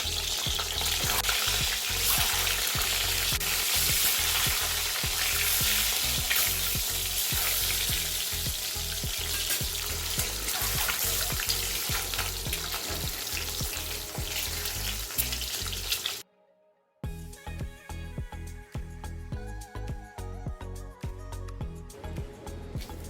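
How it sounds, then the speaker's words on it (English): Boiled eggs frying in oil until golden brown, a loud, steady sizzle with rapid crackling that suddenly cuts out, then returns more thinly with scattered pops. "Now add oil and fry the boiled eggs until it turns to golden brown."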